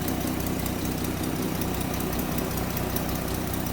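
A 1959 Dodge Coronet four-door sedan's engine runs at a steady, smooth idle close by, a continuous low rumble with an even throb and no voices.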